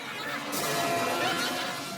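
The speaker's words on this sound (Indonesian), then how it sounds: "Ranmaru sang psikopat memukul kepala Rocky dengan botol kaca" A glass bottle smashes over a man's head during a gang fight scene in the 2017 Japanese action film High and Low: The Worst / End of Sky, a loud sustained crash and shatter filling the clip.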